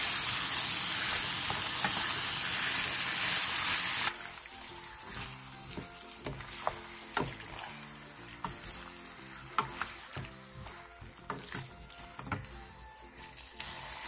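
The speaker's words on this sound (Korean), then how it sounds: "겉면이 어느 정도 익으면 중불로 줄여 고기가 완전히 익을 때까지 볶아주세요." Meat and sweet potato stir-fry in a pan, starting with a loud, dense sizzle for several seconds, then dropping to a quieter hiss broken by repeated scraping and clattering strokes of stirring.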